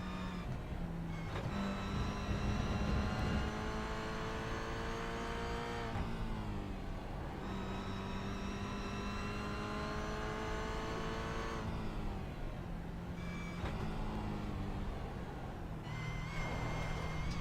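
A Toyota GR86 engine on track at Oschersleben, loud and continuous, with rising revs that drop sharply on downshifts several times, a racing engine note with no talk over it.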